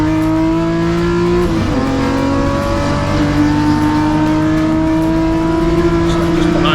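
A pack of BMW race cars sweeps past on a circuit, their engines droning loud and close, with pitch shifts as cars go by one after another and no talk over them.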